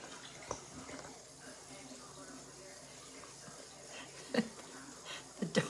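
A pet dog laps water in quick wet bursts, faint and close, under soft household background with occasional murmurs.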